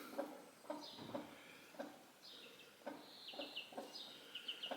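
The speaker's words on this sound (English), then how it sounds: "Chicken cam." Chickens and young chicks in a coop on a Scottish steading, soft repeated clucks and short calls with a few higher chirps, fairly faint and close, in an irregular rhythm.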